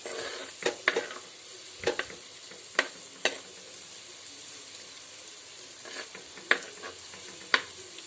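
Chopped ginger and garlic sautéed in a pan, with a soft steady sizzle broken by sharp scraping clicks of a spoon stirring against the pan at irregular intervals, close and alone.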